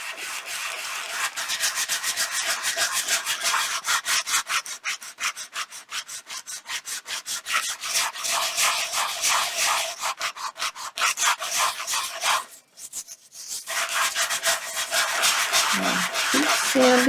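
Wood is sanded by hand with steady back-and-forth scratchy strokes, close and continuous, pausing briefly near the end before resuming.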